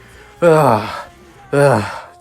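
A young man pants for breath after reaching the shallow end of a shipwreck zone, two loud, voiced breathy gasps about a second apart with quiet pauses between.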